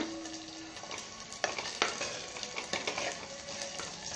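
Garlic frying on low heat, a quiet steady sizzle broken by a few sharp spatula scrapes and clicks as it is stirred.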